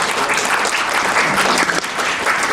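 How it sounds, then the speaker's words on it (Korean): Audience clapping after a lecture, a dense, loud, sustained wave of applause filling the room. "좋은 강의 다시 한번 큰 박수 부탁드리겠습니다."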